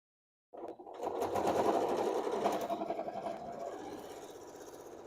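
A sewing machine bastes down a bag panel, starting abruptly after silence and then running in a steady, close mechanical whir with a rapid stitching rhythm that eases slightly toward the end.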